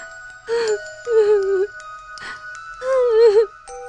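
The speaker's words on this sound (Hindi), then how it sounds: "कमरे में किसी और के रोने की आवाज आने लगी।" Eerie drawn-out wailing cries fill a room as a horror-story effect: four separate wavering sobbing moans, each about half a second long, with faint ringing tones sustained underneath.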